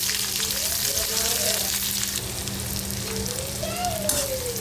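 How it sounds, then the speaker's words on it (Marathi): Chopped onion with curry leaves sautéing in hot oil in a kadhai, a steady close sizzle and crackle running through the whole stretch, with a faint voice in the background. "कांदा आपल्याला व्यवस्थित परतून घ्यायचा आहे"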